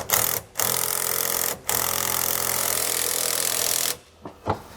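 A power tool snugs up front anti-sway bar hardware on a 2009 Coachworks Siena motorhome, whirring loudly and steadily in three runs with short gaps, close by, with no talk.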